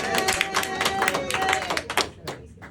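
A crowd at a senator's town hall meeting claps and cheers, scattered hand claps and voices rising in short bursts over a few seconds before quickly dying away.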